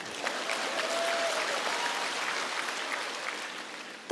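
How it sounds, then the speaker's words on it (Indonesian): Church congregation at an evening worship service breaks into steady, even applause for the women, a soft wash of many hands heard from some distance for about four seconds. "Tepuk tangan untuk wanita dong"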